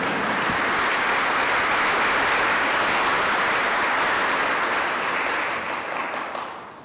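A large audience at a July 4th celebration applauds steadily, a dense wash of clapping that holds for several seconds before fading out.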